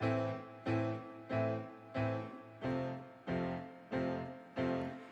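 Solo piano plays a verse with both hands together, eight steady chord strikes with a low bass note under each, close and clear with no talking.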